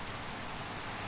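Minecraft rainfall pours down as a continuous, uniform hiss of drops, moderately loud and unbroken across the moment, with nothing else audible.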